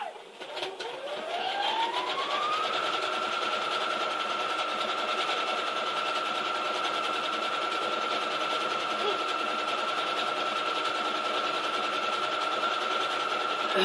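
A sewing machine stitches a quilt label, its motor whine rising quickly as it spins up, then holding a steady, continuous hum at close range.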